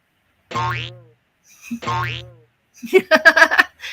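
Two cartoonish springy boings from a sound effect sound in succession, followed by a quick burst of bouncy notes; clear and close with no talking.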